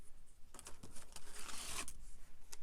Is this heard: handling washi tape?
yes